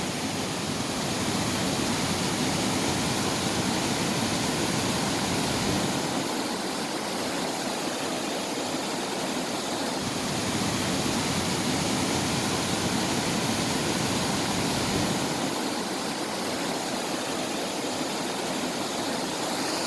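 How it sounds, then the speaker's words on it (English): Water rushes steadily through an old mill sluice gate on the River Itchen near Winchester, a dense, constant roar heard close by with no pauses or voices. "the site of an old mill. The sluice gate."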